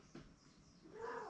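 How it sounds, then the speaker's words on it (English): A rescue cat on a homestead mews faintly at a distance, a soft brief call early on and a longer rising meow near the end, with no talking. "I don't know who's mewing right now."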